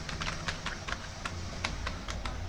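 Rapid clicking of keys on a computer keyboard, irregular taps in short bursts at close range, moderately quiet, with no talking.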